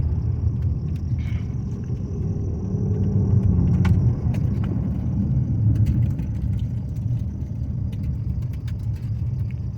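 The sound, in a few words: Nissan Maxima car driving down the road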